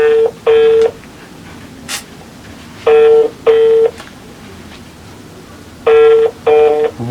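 A telephone rings in loud paired bursts, the double ring repeating three times at roughly three-second intervals over a quiet background with no talking.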